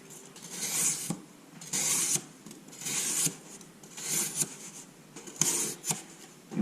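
Scraping, rasping strokes of an Opinel knife with a polished 6,000 grit edge slicing through heavy cardboard, five separate cuts in a steady rhythm with short pauses between, close and fairly loud.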